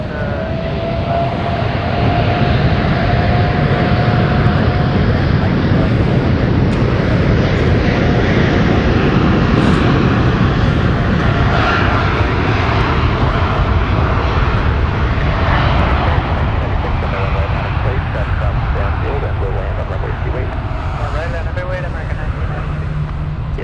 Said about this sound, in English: We have the 747 on final.